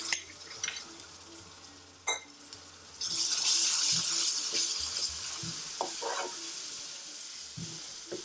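Spices frying in a pan for an Indian restaurant-style garlic chilli chicken curry, with tomato paste added midway: a few clattering stirs, then a loud, steady hiss that carries on without any talk.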